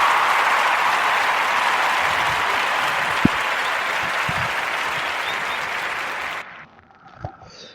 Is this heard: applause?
yes